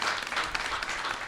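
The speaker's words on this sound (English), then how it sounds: "Let's give them a round of applause for all the hats that they wear" An audience gives a short, soft round of applause for women panelists at a Women's History Month panel discussion in Norfolk, Virginia, heard as brief, somewhat distant clapping.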